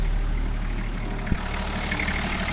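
Toyota FJ40 with a diesel conversion engine idles steadily and fairly quietly nearby, a continuous low rumble with one brief knock partway through.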